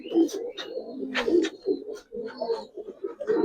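Giribaz coloring pigeons coo repeatedly in close, steady low throaty rolls, several overlapping calls filling the space with no talk.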